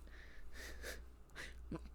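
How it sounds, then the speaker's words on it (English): A sleeping cat snores and makes odd little wheezing, sniffing snorts, several soft breathy bursts close by over a faint low hum, with one sharper snort near the end. "My cat is snoring and he's making some really weird noises in his dreams"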